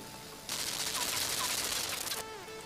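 Sustained burst of machine gun fire in a mobile physics puzzle game, a dense rapid rattle lasting under two seconds between quieter background game sounds.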